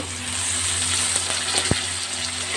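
Steady oil sizzle in a pan of fried bitter gourd as slit green chillies go in, with a soft stirring clink and no talk.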